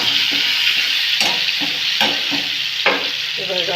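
Mango pieces coated in turmeric and salt dropped into hot oil, a dense close sizzle with bursts of crackling and scraping stir sounds, loud and continuous.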